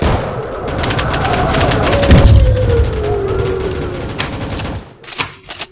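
Rapid gunfire in the tank combat video game Rolling Thunder, a steady barrage of shots with a heavy boom near the middle, continuing loud and dense before breaking into a few scattered bursts at the end.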